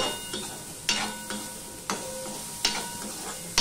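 A spoon scraping and stirring sabudana khichuri with grated ginger in a pan, several sharp clicks and scrapes spaced out over a low sizzle, close and fairly loud with no talk.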